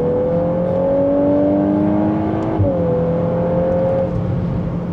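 A VW Golf 8R with a TSI engine pulls hard at full throttle on a country road, its close, loud engine note climbing steadily, easing briefly as it shifts, then rising again.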